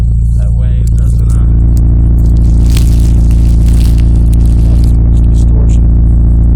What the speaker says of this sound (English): I'm going to set the phone by the exhaust and see how well it sounds.